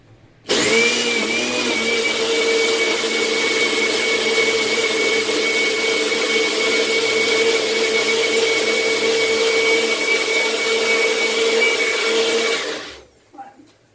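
A Nutribullet PRO blender runs continuously making a smoothie, a loud steady high-pitched whirring motor that starts abruptly and cuts off near the end, with no talk over it.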